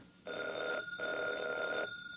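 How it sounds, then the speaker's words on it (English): An old telephone bell rings in two close, loud bursts, each lasting around half a second to a second, with a short gap between, in a classic sci-fi radio drama. "Heavens, did that phone ring?"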